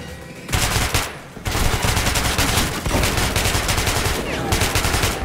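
Loud, rapid gunfire bursts in the video game Metro Redux, a player firing a pistol in dense, repeated shots that run almost continuously and fill the scene.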